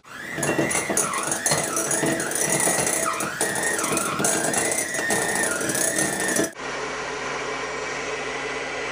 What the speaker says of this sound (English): you can do this with an electric mixer